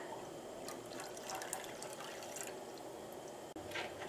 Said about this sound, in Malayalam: ഈ പാലിലേക്ക് നമുക്കൊരു ഒന്നര കപ്പ് വെള്ളം ചേർക്കാം